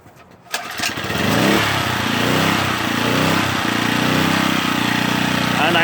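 A Champion 1200-watt portable generator engine fires up after a brief quiet moment, then runs steadily and loudly up close with a buzzy, continuous drone.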